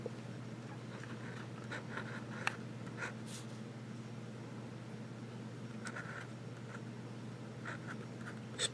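Fine-nib fountain pen scratching steadily across paper, with soft intermittent strokes and brief lifts over a low steady room hum, close and quiet.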